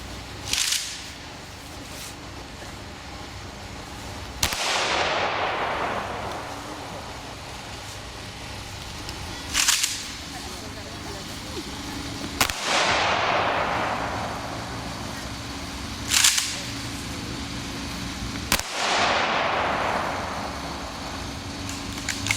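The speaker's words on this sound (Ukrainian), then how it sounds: "До салюту шани стояти струнко" Five sharp rifle volleys ring out at regular intervals as a gun salute at a memorial ceremony in Ivano-Frankivsk, each a loud crack followed by a long echoing decay, with quiet ambience between.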